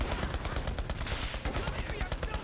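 Rapid gunfire in Borderlands 3, a dense and continuous stream of close shots and bursts that lasts the whole moment.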